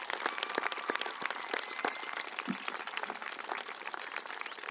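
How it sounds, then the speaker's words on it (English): A graduation audience applauds the band after its intro performance, steady crowd clapping with sharp individual claps standing out, sustained throughout. "I'd like to give them a round of applause for the great work they did in the intro."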